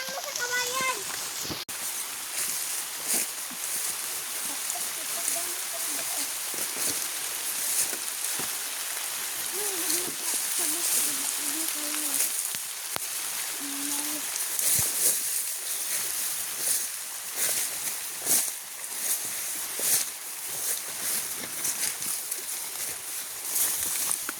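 Steady rain pours across a farm field in the countryside, a dense continuous hiss with scattered louder drops, while people talk intermittently underneath.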